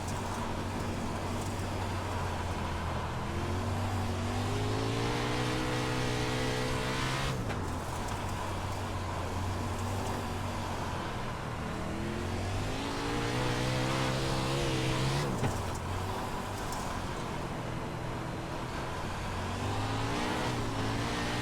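A race car engine in the iRacing sim revs loudly and continuously, pitch climbing through gears, dropping sharply and climbing again in repeated cycles, with no voices.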